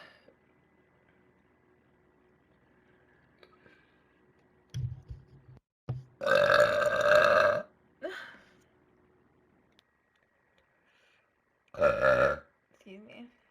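A woman burps several times, loud drawn-out belches spaced across the stretch with short quieter sounds between them and near-silence elsewhere.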